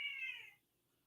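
A single close, clear house cat meow, rising then falling and fading out after about half a second into a quiet room.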